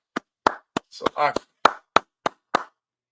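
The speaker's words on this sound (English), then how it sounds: "Go ahead, clap it up." Members of an online church congregation clap, about nine sharp, separate hand claps spaced unevenly over a few seconds, close and clear against silence, with a brief voice in the middle.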